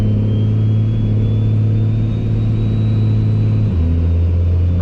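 A Cummins-powered truck drones loudly under acceleration, its engine tone holding steady, then stepping down abruptly near the end as the transmission makes a crisp gear change.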